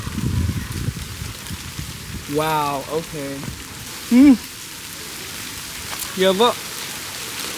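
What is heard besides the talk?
rain falling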